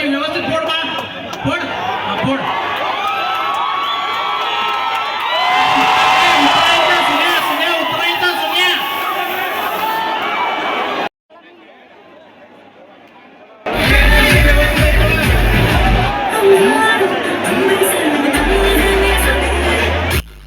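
Festival crowd at a Dahi Handi celebration in Kolhapur cheering, whooping and shouting in a loud, dense roar that drops to a quieter lull midway, then surges back with banging and drumming.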